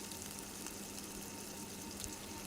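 Chicken pakora fries in hot oil in a pan, giving a steady, soft sizzle with faint stirring scrapes throughout.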